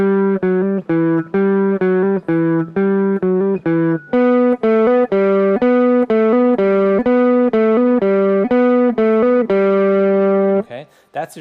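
Guitar playing the second part of Carol of the Bells: a bright, close, repeating four-note figure picked in a steady rhythm, played alone, with a brief scrape as it ends.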